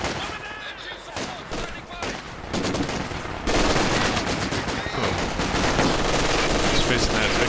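A Vickers machine gun fires in a Company of Heroes 4v4 match on Red Ball Express, sustained rapid bursts growing louder and denser, with a voice talking over the battle.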